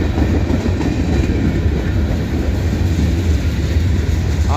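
Freight train cars, some with flat spots on their wheels, roll past on rails in a continuous loud rumble with a rough, clattering texture and no voices.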